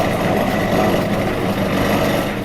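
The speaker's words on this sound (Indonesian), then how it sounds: "Oh, ini mesin giling ya?" A coffee grinding machine at a coffee processing factory runs in a steady, loud, dense mechanical drone with no breaks, close by and without talk.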